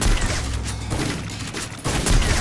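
Rapid gunfire bursts from the battle royale game Free Fire, dense and continuous with booming low thuds, loud and close throughout with no voices over it.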